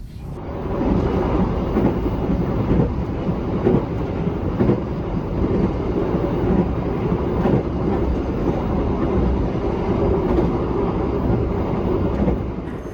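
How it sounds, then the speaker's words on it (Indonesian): Inside the Airlangga passenger train travelling from Semarang Poncol to Surabaya Pasar Turi in Indonesia, a loud, steady rumble carries on throughout, marked by occasional rhythmic rail clacks and knocks. "Kereta Airlangga tuh ya, sama ya, dari Semarang Poncol menuju ke Surabaya Pasar Turi"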